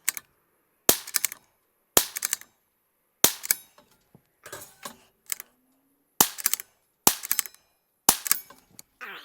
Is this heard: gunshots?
yes